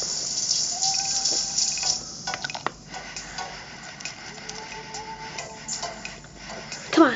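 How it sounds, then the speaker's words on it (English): Running water from a tap filling a dog's bath in Nintendogs + Cats, a steady light splashing and patter with small drips, moderately close, with faint shuffling and scattered game sounds over it. "Quickly, let's take a quick bath."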